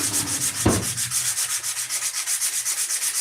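Sandpaper of 60 grit rubs back and forth on wood, likely plywood, in quick, steady rhythmic strokes, close and clear, with a single sharp knock near the start and no talk.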